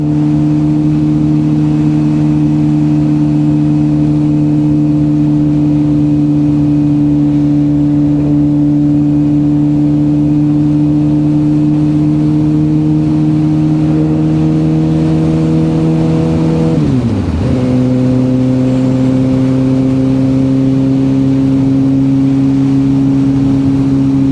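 Suzuki GSX-R 750/600 motorcycle engine pulling hard on a test ride after transmission replacement: a loud, steady drone rising slowly in pitch, with a brief dip near 17 seconds as a gear shifts, then climbing again.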